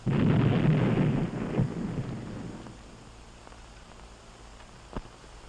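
An above-ground nuclear weapon test: a deep, heavy boom rolls out as a long rumble that slowly fades, with one brief dull thump near the end.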